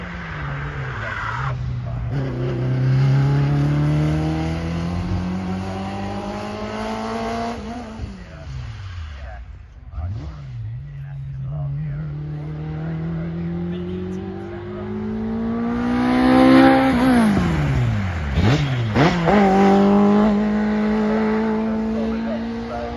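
A Hillman car sliding at speed, its engine revving up and down in long sweeping rises while the tires squeal, loud and close over more than twenty seconds, with brief drops between runs.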